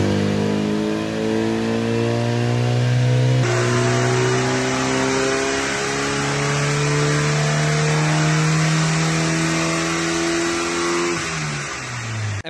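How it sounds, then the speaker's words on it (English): A Ford Escort on a dyno, loud and close, revving steadily up through the gears with rising engine harmonics, a brief shift near the start, then pulling hard toward the top of the rev range before easing off at the end. "with this second run, you're going to hear it get right to the top of the revs"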